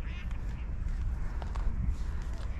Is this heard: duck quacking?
yes